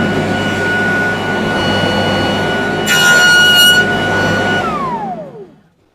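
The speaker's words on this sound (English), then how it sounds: "all we got to do is run this through and cut a slot in the back fence." A table saw fitted with a grooving blade cuts a slot through the wooden back fence of a finger joint sled, giving a loud steady machine roar with a sharper whine partway through, then spinning down to silence.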